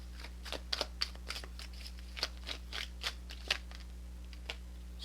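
A deck of Austera Tarot cards is shuffled and drawn by hand, giving soft, close riffling and flicking sounds in irregular little bursts over a steady low hum, with no talking.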